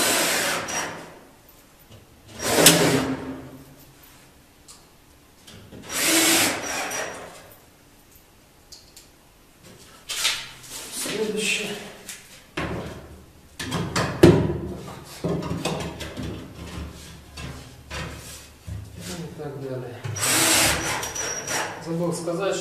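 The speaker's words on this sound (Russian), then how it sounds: "Прикручиваем на саморезы." A cordless drill drives self-tapping screws while pipes in a combined bathroom are being boxed in, giving several separate loud whirring bursts close by with handling noise and clatter in between.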